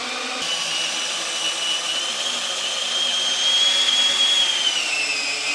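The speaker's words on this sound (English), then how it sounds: "Here's the mixer I'm using, Harbor Freight Special," A small DeWalt cordless drill fitted with a Harbor Freight mixer paddle churns thick shower waterproofing compound, giving a loud, steady motor whine that strains slightly as the load shifts.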